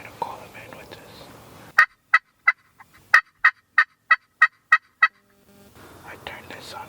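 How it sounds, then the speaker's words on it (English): A wild turkey gobbles in the woods in a quick run of about ten sharp, evenly spaced calls, clear against near silence, with faint rustling before and after. "we still hear some turkey gobbling"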